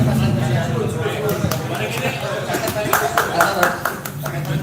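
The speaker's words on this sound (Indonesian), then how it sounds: "Terima kasih Mas Nurman, tepuk tangan dulu." Clapping from guests at a Halal Bihalal alumni gathering, scattered hand claps that grow into a ragged round of applause while people talk over them nearby.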